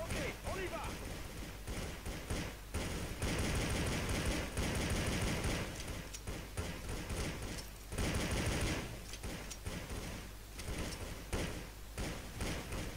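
Gunfire in Counter-Strike Source, bursts of shots fired through walls that repeat across a busy, dense game mix, with a voice talking over parts of it.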